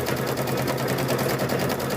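A sewing machine stitches a strip of rope for a rope bowl, a continuous rapid mechanical whir with fast regular needle pulses, close and steady throughout.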